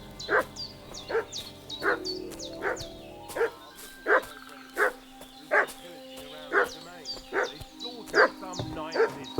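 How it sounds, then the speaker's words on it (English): In Kingdom Come: Deliverance II, a dog barks in a steady series of sharp, evenly spaced barks over a quiet outdoor backdrop, with birds chirping faintly around it. "What's that dog making such a fuss about?"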